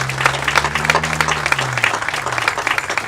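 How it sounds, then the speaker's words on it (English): Attendees at a Purple Heart Recognition Day ceremony applaud veterans, a steady wash of clapping over a low sustained tone, with a voice briefly audible beneath it. "Let's give them another round of applause"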